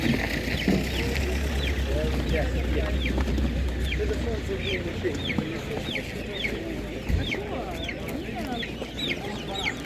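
Young hens cluck repeatedly at an outdoor animal market, a dense chorus of rhythmic clucks and bird calls over constant background crowd noise, with someone speaking nearby.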